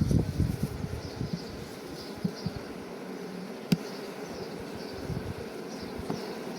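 Honey bees crawling off a brood frame from a drone-laying colony give a soft, steady buzzing hum throughout, fairly close, with a few faint knocks and no talking.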